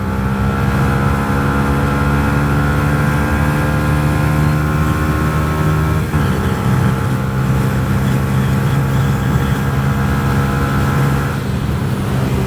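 A Yamaha YZF R125 125cc motorcycle accelerates hard: a loud, close, high revving engine whine climbs in pitch, drops briefly at a gear change around midway, then climbs again before easing off near the end.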